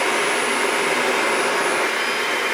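Shark upright vacuum cleaner with powered lift-away running steadily at close range, a continuous broadband whoosh with a faint high whine, unbroken and without voices.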